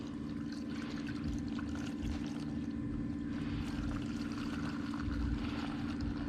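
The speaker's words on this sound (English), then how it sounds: "Pour this shit in here." Tint liquid pours steadily into a backpack sprayer tank, a continuous rushing, gurgling stream with a low hum underneath, close and fairly loud throughout.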